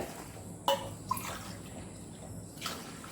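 Water is poured into a pot of porridge flour for a weight-loss kanji, heard as a few sharp splashes and drips over a quiet background, with no talking.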